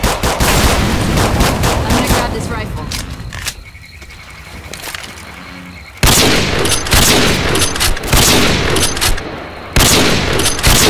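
Rifle gunfire in Left 4 Dead 2: loud, rapid volleys of shots in a dense rattle, a quieter lull of a few seconds in the middle, then the heavy shooting resumes.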